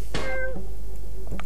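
A cat in the video game Machinarium meows clearly, one drawn-out tonal meow followed by a shorter rising call, loud and close with nothing else over it.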